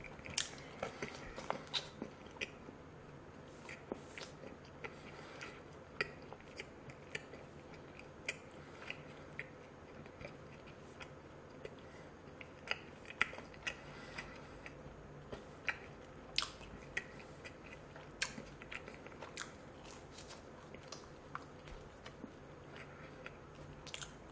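Someone chews a handmade pizza crust baked in Rome, with soft repeated crunchy bites and mouth sounds that stay faint and close throughout, and no talking.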